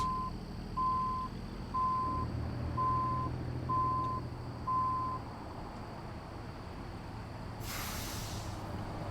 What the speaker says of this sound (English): We're going to have to back out on this lovely winter's morning